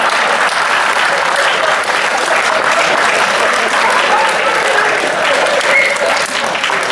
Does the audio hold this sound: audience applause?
yes